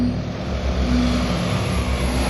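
A US Navy 'flying pancake' propeller aircraft drones in flight, a steady, fairly loud engine and propeller hum with a low harmonic buzz, heard alone.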